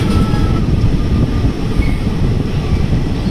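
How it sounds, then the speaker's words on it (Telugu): The Gowthami Express rolls through Fatehnagar station, heard from on board as a loud, continuous low rumble of wheels and carriages with faint rail clatter, and no voices. "ఫతేనగర్ స్టేషన్ క్రాస్ చేస్తుంది ట్రైన్,"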